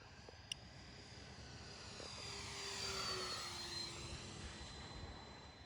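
Small electric RC model airplane, a Freewing PJ50 or E-flite 1.2m Corsair, makes a low pass at about half throttle, its steady motor whine swelling as it nears and fading away, faint and outdoors with no talk.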